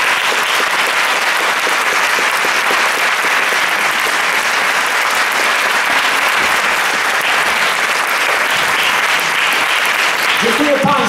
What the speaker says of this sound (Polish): Dziękuję Państwu, również gorąco brawa.